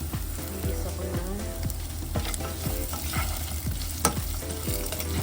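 Onions sautéing in a pan as the base for Saba mackerel: a loud, continuous sizzle and crackle with repeated spatula knocks and scrapes against the pan, close up, with no talk.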